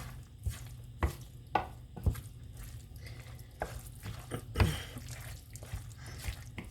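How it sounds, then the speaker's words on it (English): A spoon stirs and scrapes through chicken spaghetti sauce in a pot, making close, irregular wet knocks and clinks with a soft squelch between strokes. "I'm going to put in half and mix it so that I can get the other half mixed in"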